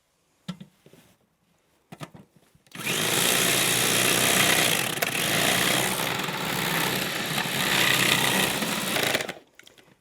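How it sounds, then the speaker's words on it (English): An electric grater shreds carrots and a small piece of ginger in a loud, steady motorized whir lasting about six seconds, preceded by a few brief clicks and bumps, then stopping abruptly. "I'm going to start out by grating these carrots and this little thumb of ginger"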